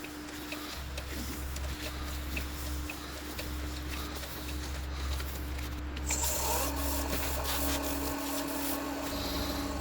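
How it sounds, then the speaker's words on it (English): Continuous rhythmic rubbing and buffing of hard wax oil polish on an oak, cherry and ash cake stand, steady and close, with a faint mechanical hum underneath and no speech. "A bit of polish."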